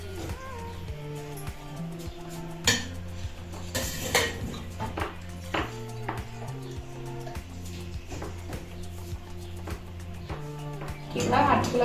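A pan is set down and handled on a home stove while poha (flattened rice) is prepared, with repeated metallic clanks and scrapes. A person talks throughout.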